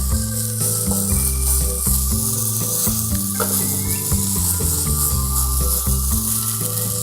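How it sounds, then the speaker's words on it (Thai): Thinly sliced button mushrooms stir-fried in a hot pan make a steady, dense sizzle close up. A low, melodic background tone runs beneath it throughout, and nobody speaks. "เราก็ใส่เห็ดที่เราเตรียมไว้แล้วนะครับ เห็ดกระดุมสไลด์บางๆนะครับ ลงไปผัดต่อเลย"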